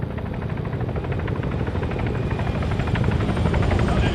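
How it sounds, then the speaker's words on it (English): A helicopter in the video game ArmA 3 flies overhead, its rotor drone steady and loud, growing slightly stronger as it comes closer. "Sounds like a helo, moving target."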